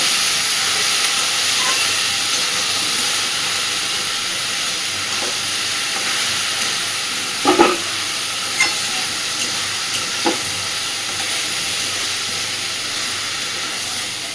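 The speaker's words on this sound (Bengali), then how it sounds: "লোটে মাছটা দিয়ে আগে খুব ভালোভাবে মিশিয়ে নেব" Bombay duck (lote fish) sizzles steadily in a pan, a constant broadband hiss with a few soft scrapes of stirring partway through; no talking.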